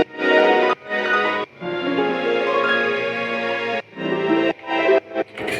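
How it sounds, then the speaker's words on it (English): A harp plays through a beat production, its notes heard alongside a full, dense arrangement in phrases broken by brief pauses, with no talking. "And lastly, we have a harp that sort of just plays through."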